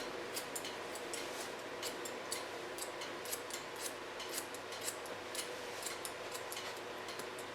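Scissors snip through hair during a haircut, a fast, steady run of crisp metallic clicks close up and fairly quiet against a soft background hiss.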